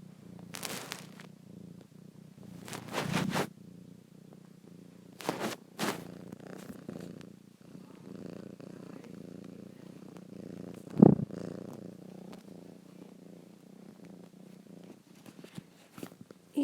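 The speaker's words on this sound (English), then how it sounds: "yeah, that'd be him purring his heart out." A cat purrs close to the microphone in a soft, steady low rumble, broken by a few louder rustling bursts of movement.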